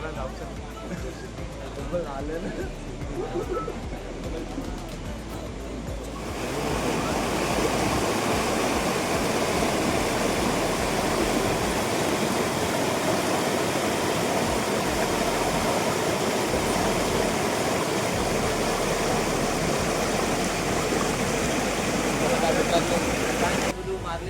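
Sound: waterfall

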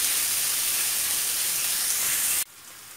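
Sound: minced meat frying in a pan

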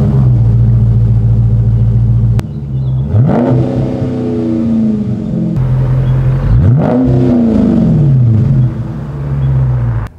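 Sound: 2021 Dodge Charger Scat Pack engine revving through its exhausts

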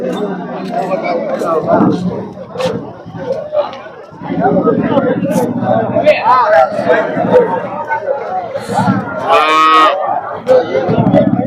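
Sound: Holstein Friesian cows mooing at market

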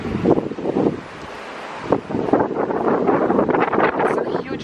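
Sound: strong wind outside

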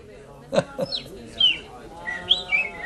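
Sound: bird chirping

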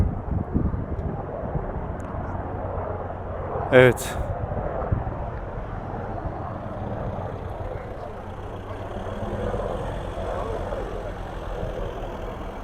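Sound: helicopter flying overhead

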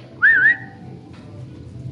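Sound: whistling for a horse in Red Dead Redemption 2 video game

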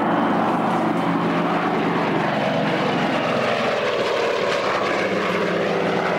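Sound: propeller airplane flying

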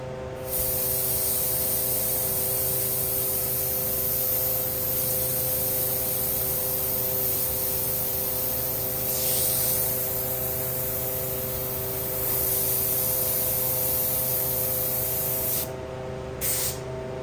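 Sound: airbrush spraying paint cracks onto purple

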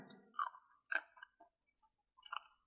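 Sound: chewing crunchy lotus seeds

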